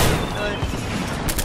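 Rapid video-game gunfire crackles in a steady dense burst, loud and close, with a sharper blast near the end and a player's voice talking underneath.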